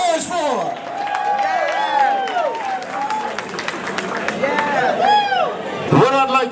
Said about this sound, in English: Give my sister, Dan, a nice round of applause for her 25th birthday